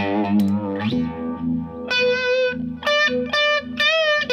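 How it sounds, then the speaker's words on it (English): Electric guitar through overdrive with a vibe effect and the pickup coil-tapped, playing a sustained chord then a series of bright choppy stabs with a swirling, chorus-like shimmer. "pull a coil tap, and I get a lovely kind of"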